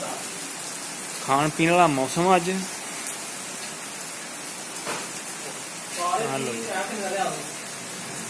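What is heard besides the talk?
heavy rain falling in a village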